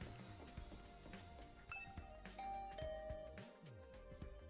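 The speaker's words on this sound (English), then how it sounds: "I rang the doorbell to Tsubasa's room." A doorbell chimes to a dorm room in the video game The Hundred Line: Last Defense Academy. The faint electronic tones ring over quiet background game music, with no voices.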